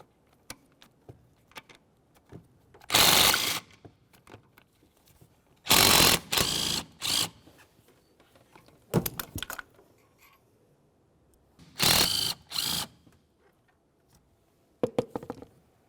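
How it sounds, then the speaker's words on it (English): Ratchet backing out two 13mm mounting bolts on the driver's side of the air injection check valve on a 2005-2010 Chevrolet Cobalt, loud rapid clicking in several separate bursts with quiet handling between them. "You're going to find that you have 2 13mm mounting bolts along the driver's side of this. We'll go ahead and remove the pair."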